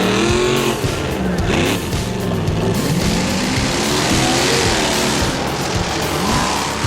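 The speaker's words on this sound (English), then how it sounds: "It's a Chevrolet truck mounted on a vintage military tank" A Chevrolet truck mounted on a vintage military tank drives along, its engine roaring and revving loudly over grinding track and tire noise, with surges of throttle from start to finish.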